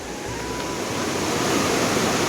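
Monsoon floodwater rushes below a hill village in Uttarakhand, a steady, loud broadband roar of flowing water that holds constant and slightly swells across the clip, with no voices.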